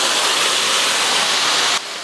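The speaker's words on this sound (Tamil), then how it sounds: "இப்போ நம்ம வேக வச்ச மட்டன் சேர்த்துடலாம்" Boiled mutton goes into a pan of sautéed onions together with its cooking water, setting off a loud, steady broadband sizzle and hiss that drops abruptly just before the end.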